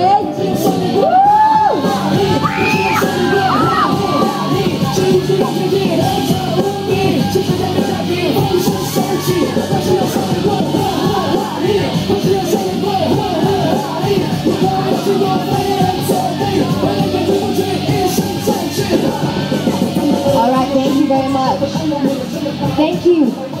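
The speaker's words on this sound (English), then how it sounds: "Come on stage, round of applause," A crowd at a Bugis Junction mall event with Jay Chou and Seth Rogen roars continuously. Many voices yell, whoop and shriek over scattered clapping, staying loud and dense for the whole stretch.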